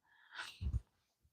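A single sneeze from a person during a relaxed colouring chat, a quick indrawn breath followed by a sharp, close burst, then silence.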